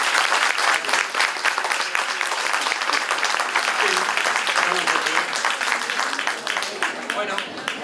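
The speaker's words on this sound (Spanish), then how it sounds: "Un aplauso muy fuerte" Strong, sustained applause fills a hall after a cultural-week talk on French champagne, many hands clapping densely and evenly for several seconds without a break.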